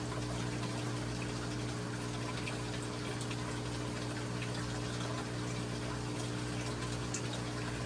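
Hygger aquarium water change pump draining a tank, a faint steady hum with a low tonal drone and soft continuous water gush, unchanging throughout with no talk.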